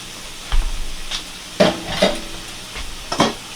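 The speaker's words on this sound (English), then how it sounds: "You want to hear that nice sizzle." Food sizzles and crackles in a hot pan, with a few short bursts of spitting and a soft stirring scrape, no voices.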